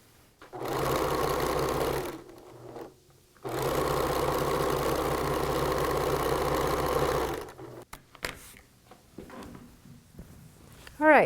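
Home sewing machine stitching a seam on a T-shirt quilt, running in two sustained bursts with a brief pause between, followed by quiet handling noises and a faint rustle at the end.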